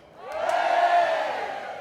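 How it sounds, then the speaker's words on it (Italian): An open-air concert crowd in Piazza Manzoni, Jesolo, gives a collective shout when asked, a swelling roar of many voices that rises quickly, peaks mid-way and tails off over under two seconds. "voglio sentire un urlo!"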